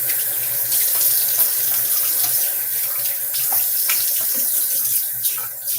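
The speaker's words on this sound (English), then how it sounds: "Rinse." Water runs from a bathroom tap into a sink for rinsing during a wet shave, a steady, close splashing rush that lasts the whole stretch without talking.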